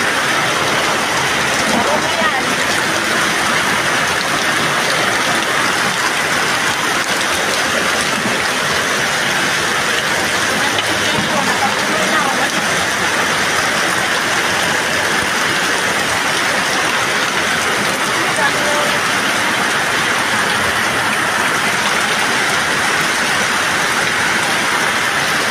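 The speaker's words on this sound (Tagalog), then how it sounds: "Lakas ng ulan." Heavy rain pours down in a dense, steady hiss that stays loud and unbroken throughout, with no pauses or letup.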